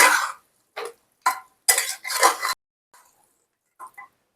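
Mutton and onions being stirred in a pot for a Punjabi-style mutton curry: a few loud, separate scraping and clattering strokes of a spoon against metal in the first half, then quieter, sparse taps, with no talking.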